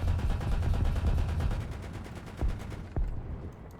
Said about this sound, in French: Pourquoi t'as qu'un seul canon qui tire?